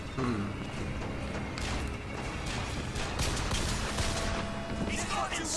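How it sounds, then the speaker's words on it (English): Gunfire shattering a window in the video game Bioshock Infinite: loud, dense game-combat sound with sharp impacts and crashing layered throughout, continuous from start to finish. "The window shatters after one shot is typically what happens."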